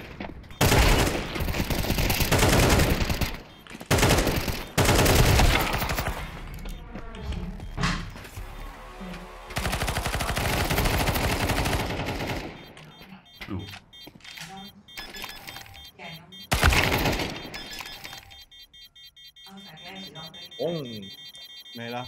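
Gunfire in a Counter-Strike 2 match comes in loud bursts of rapid shots and single cracks, broken by gaps, with excited players talking over the action.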